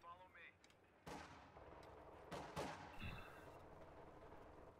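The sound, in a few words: pack howitzer artillery hits in Company of Heroes 2 video game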